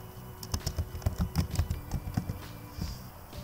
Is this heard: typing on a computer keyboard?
yes